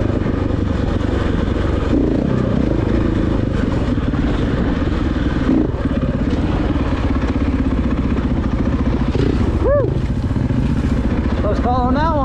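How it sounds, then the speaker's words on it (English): A dirt bike ridden off-road at the Rowher Flats OHV area, its engine a constant close droning buzz from the rider's position, with brief revving swells near the end. "I just want to ride my dirt bike."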